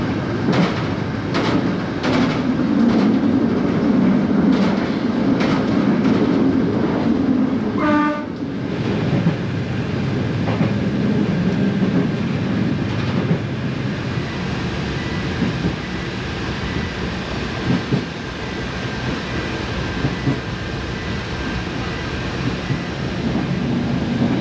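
A small narrow gauge train on a Spanish coastal railway rumbles steadily along the track with rhythmic clicks and clatter from the wheels, and a horn sounds partway through over the constant loud rolling noise.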